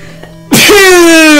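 A sudden loud, strange sneeze from the Legend of Zelda game bursts in after a brief quiet stretch, then trails into a sustained wavering, descending tone.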